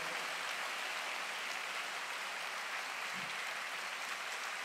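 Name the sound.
audience applause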